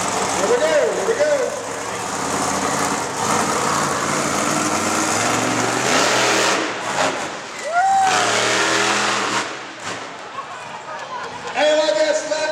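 Monster truck engines rev loudly at a truck show event, with a broad roar that rises and falls across the whole stretch and bursts of crowd or announcer voices mixed in.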